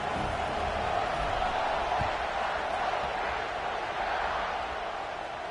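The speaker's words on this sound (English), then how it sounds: "this crowd now ready to get behind them" Steady crowd roar filling a Michigan football stadium ahead of a kickoff, a broad continuous rumble that holds at a moderate level and eases slightly toward the end.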